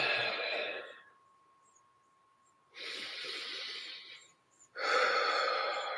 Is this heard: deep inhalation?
yes